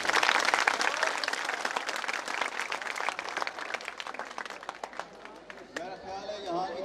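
Dense, loud audience applause fills the hall at a Talagang Arts Society stage program for 14 August, sustained for several seconds before thinning as a voice begins speaking near the end.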